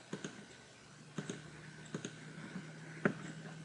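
Faint computer mouse clicks sound while boxes are selected in reporting software, several light sharp ticks spaced irregularly over a quiet background hiss, with no talking.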